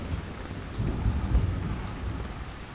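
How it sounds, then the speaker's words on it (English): Steady rain hisses and patters in the Arkansas woods while low thunder rumbles in the distance, swelling slightly midway. "I don't know if you can hear the thunder out there"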